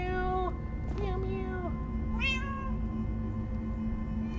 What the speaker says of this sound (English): Well, that's a lot of cats.